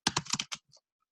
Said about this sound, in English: I'll just type in here